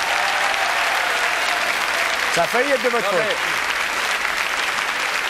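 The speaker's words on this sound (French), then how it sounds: "Applaudissements pour la table, mesdames, messieurs." Studio audience applause on a French television variety show, a loud continuous wash of clapping from a large crowd, with someone speaking briefly over it.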